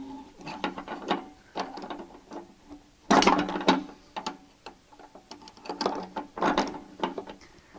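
A socket wrench tightening a water heater heating element, its ratchet clicking in short irregular bursts close up, with one louder flurry in the middle.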